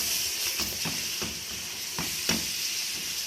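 Salt, turmeric and red chili powder are stirred in a frying pan for a restaurant-style mixed vegetable dish. A steady hot sizzle runs under repeated, evenly spaced spoon scrapes, close and fairly loud, with no one speaking.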